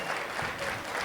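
Festival crowd in Aldea Blanca applauding the musical groups during the fiesta opening speech, a brief steady wash of many hands clapping.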